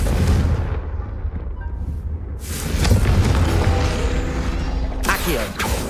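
Heavy booming blasts from a Confringo fire spell in a Harry Potter video game, with loud bursts at the start, in the middle and near the end, and continuous rumbling in between.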